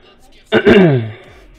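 A single throat clearing from someone who just woke up, a short rough rasp that fades out within about a second.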